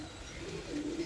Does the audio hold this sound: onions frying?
no